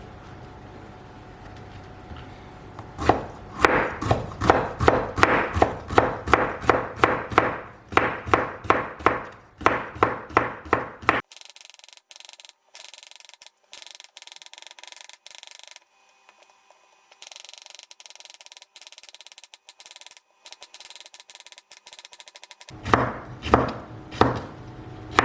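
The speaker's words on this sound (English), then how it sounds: "So I've sliced up my bitter gourd into very thin slices." A knife chops rapidly through bitter gourd on a board, a fast run of sharp, close, evenly spaced cuts, then a long stretch of near silence with faint hum before a few more quick chops return at the end.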